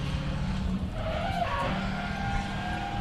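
A drift car engine roars unevenly at close range off the line at a drift park, its note wavering and straining rather than pulling cleanly, not running properly, with tyre scrub and crowd-like noise beneath.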